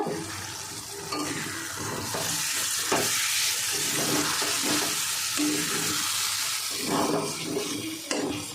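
Garam masala is stirred into a potol curry in a pan, a dense wet sizzling and scraping of the spoon through thick gravy, close and fairly loud, with a few sharper knocks and no talking.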